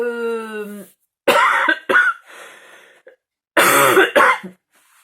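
A voice trails off, then harsh, close coughs come in two bursts, each with a couple of hacking coughs and brief quiet between.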